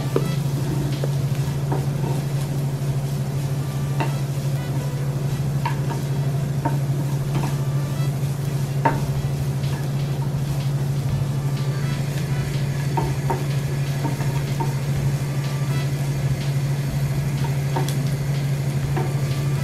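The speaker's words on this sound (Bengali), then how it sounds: "একটু সময় নিয়ে ভাজতে হবে যেন এগুলো নরম হয়ে যায়" Onions and green chillies fry gently in a little oil on low heat, giving a steady, even sizzle throughout with occasional faint clicks and stirring taps, and no talking.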